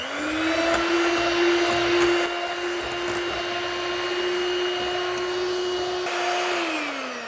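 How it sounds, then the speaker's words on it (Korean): An electric hand mixer whips meringue at high speed, a loud steady motor whine holding one pitch for several seconds before winding down near the end, with no voices. "자, 고속으로 2분간 더 휘핑해 주겠습니다"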